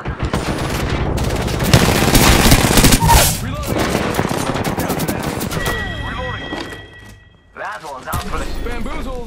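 Rapid gunfire rattles in Apex Legends, dense bursts of automatic shots and sharp cracks carrying on almost nonstop, loud and close, with players talking over the firefight and a short lull near the end.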